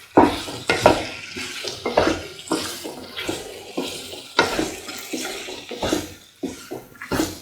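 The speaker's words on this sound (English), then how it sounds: "Salt and mix thoroughly." Potatoes with curry leaves, green and red chilies and salt being mixed in a bowl or pan, giving close, irregular wet scraping and tossing sounds in uneven bursts.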